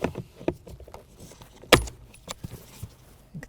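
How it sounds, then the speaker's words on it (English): A panel tool pops plastic wiring harness clips off the blower motor of a 2007-2013 Acura MDX, one sharp close snap amid light plastic rattling and clicks. "We're going to take our panel tool, pop these clips down."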